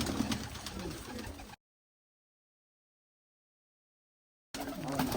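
Sizy pigeons brought from Turkistan coo in a loft, a bird voice among steady ambient noise, with a few seconds of silence breaking the sound midway.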